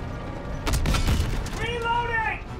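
A tank cannon firing in a Call of Duty WW2 battle involving a Sherman tank: a heavy booming blast over continuous engine rumble, then a rising mechanical whine as the turret moves.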